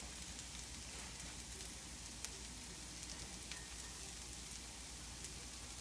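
Sliced burro bananas and onions fry in a pan with a soft, even sizzle and occasional faint pops, quiet and continuous with no talking.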